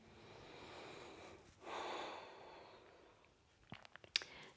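Breath during a yoga session, a quiet drawn-out exhale and inhale through the nose, close and soft, followed by a few faint clicks and taps.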